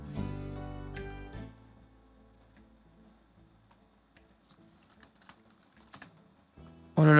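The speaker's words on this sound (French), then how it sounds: "mon clavier qui fait de la merde" A computer keyboard clicks faintly and sparsely during a Planet Zoo game session, with soft game tones underneath. A sudden loud burst cuts in at the very end.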